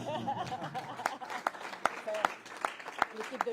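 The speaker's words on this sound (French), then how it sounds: "vous pouvez tous vous applaudir" An audience at a talk gives a short burst of applause, with sharp scattered claps and a few laughs mixed in under a voice that keeps speaking.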